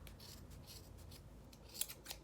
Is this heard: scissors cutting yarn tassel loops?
yes